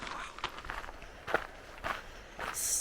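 Twigs and branches snap and crunch underfoot on a lush rainforest hike in Eungella National Park, a handful of sharp close cracks spaced irregularly over soft background ambience.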